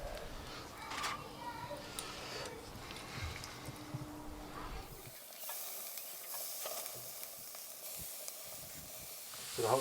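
Corn on the cob with butter and piri piri sauce cooking on a Kamado Joe Big Joe 3 grill, a steady close sizzle and crackle that brightens into a hissy sizzle partway through, with someone talking over it.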